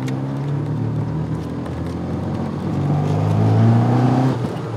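Toyota MR2 sports car engine humming steadily from inside while driving in traffic, a low continuous drone that swells slightly as the car picks up speed near the end.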